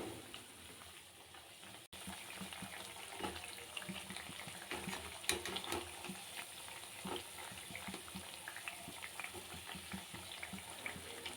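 Food shallow-frying lightly in hot oil until golden, a steady soft sizzle and crackle with occasional stirring clinks, heard close but fairly quiet with no talking.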